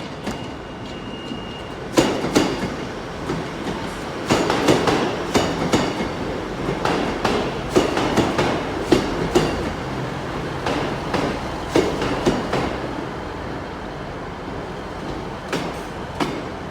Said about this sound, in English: coming in will be the 1419 Great Western Railway service to Barnstable